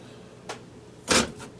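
An oiled shell is set into a pan for a midnight snack, a soft tap followed by a louder scraping clunk and a faint settling knock, close by in a quiet kitchen.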